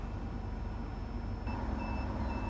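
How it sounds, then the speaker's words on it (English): A steady electronic beeping tone from a train coupler's emergency mode buzzer begins partway through, repeating over a constant low mechanical hum. "the buzzer will begin to sound"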